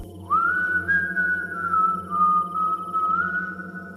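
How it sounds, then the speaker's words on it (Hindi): A long, wavering high whistle holds one pitch and drifts slightly up and down, sustained alone over a low hum. "वो आवाज ऐसी थी जैसे किसी ने सीटी बजाई हो।"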